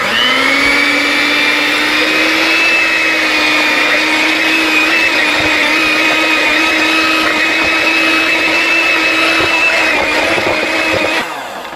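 An electric hand mixer runs on low speed, beating large eggs into a New York style cheesecake batter. Its motor gives a steady, loud whine for about eleven seconds and then winds down at the end, with no talking.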